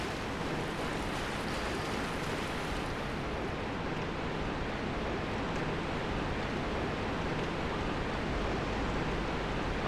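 A waterfall in the video game Dark Souls gives off a constant, dense rushing hiss, loud and even throughout with no breaks.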